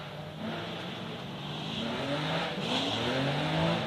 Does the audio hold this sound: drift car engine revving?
yes